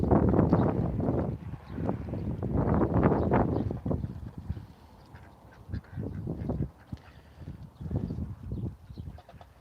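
Several ducks quack in repeated loud bursts up close, the calls growing softer and more spaced out toward the end.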